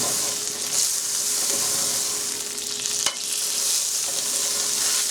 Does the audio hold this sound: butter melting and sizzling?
yes